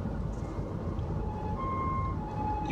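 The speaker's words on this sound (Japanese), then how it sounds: "救急車" An ambulance siren wails steadily in the distance over a dense, low traffic rumble on a road in Aira City along Kagoshima Bay, Japan.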